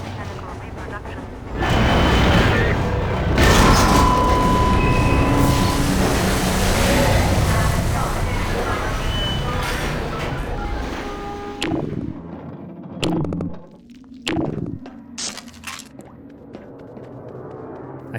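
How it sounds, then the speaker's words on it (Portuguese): A train ride in a video game rumbles loudly and continuously, with deep booms layered over it, before fading into quieter scattered thuds and knocks. "uma viagem de trem nunca pode dar certo"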